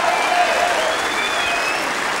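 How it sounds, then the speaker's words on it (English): Crowd at the 1997 World Snooker Championship final at the Crucible applauding and cheering, a dense continuous roar of clapping with whistles rising above it. "So the cheers go on here."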